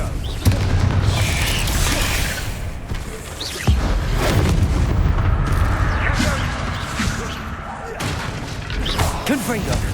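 Repeated Confringo spell blasts in the Hogwarts Legacy video game burst out as booming thuds and crashes with whooshing impacts, layered over game effects and a voice talking throughout.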